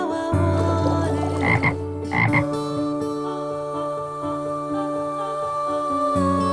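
A frog croaks repeatedly and loudly close by, steady throaty calls over a constant tonal hum with a few brief higher chirps, no voices.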